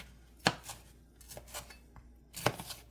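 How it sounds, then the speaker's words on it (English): Knife chopping peppers on a cutting board in a home kitchen: a few sparse, sharp taps at close range, quiet overall with light background clatter. "we gotta chop up our peppers"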